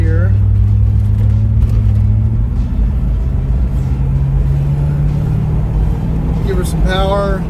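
A 1992 Range Rover Classic V8 pulls out and drives off, its steady low engine drone and road rumble heard from inside the cabin, while someone talks over it throughout.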